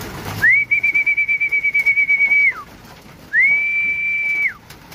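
Two long, steady whistle notes come close and loud in a pigeon loft, each sliding up and then dropping away at the end. Faint bird sounds sit underneath, with no talking.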